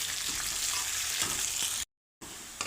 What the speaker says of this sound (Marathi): उभा चिरलेला कांदा चांगला गोल्डन ब्राऊन होईस्तोवर आपण परतून घेऊ तेलामध्ये.